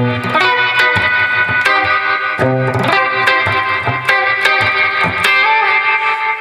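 An electric guitar plays a distorted, chugging chord progression for a song, with punchy palm-muted strums and sharp accents at a steady rhythm, loud and up close with no talking.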